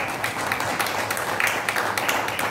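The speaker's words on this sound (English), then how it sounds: "you can give him a big round of applause" Audience gives a steady round of applause before a record attempt, a dense, evenly sustained clatter of many hands at close range with no pause.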